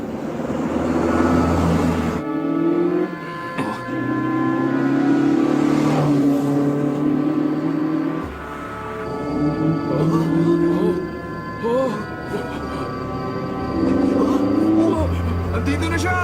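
Toyota AE86 Sprinter Trueno in panda livery arrives in an anime racing film, its engine droning and revving steadily through the scene, mixed with music and dubbed voices talking over it.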